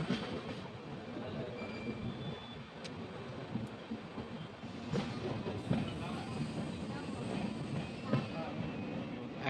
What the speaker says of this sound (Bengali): একটা ট্রেন থ্রু পাস করবে